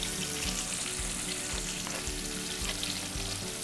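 Fish fillet frying in hot oil, a steady loud sizzle and crackle running continuously throughout with faint stirring or spatula movements underneath.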